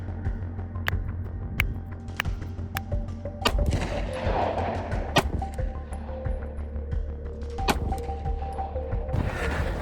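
Rifle shots fired outdoors for a loudness test: a string of sharp, separate cracks spaced irregularly over a low background rumble, with no talking.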